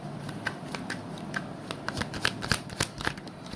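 Tarot cards are shuffled and drawn by hand, a close, crisp run of papery riffles and snaps that grows denser and louder toward the end.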